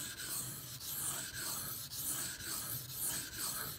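A Bark River Bravo EDC knife blade is drawn across a sharpening stone in steady, evenly spaced rasping strokes, about seven close swipes in a row, with no one talking.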